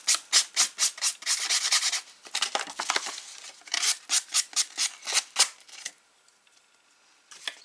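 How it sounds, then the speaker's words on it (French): Rapid rhythmic scraping strokes of a sanding sponge rubbing a paper or card folio page, close and fairly loud, in bursts that pause briefly before trailing off. "on prend la petite éponge ponceuse là"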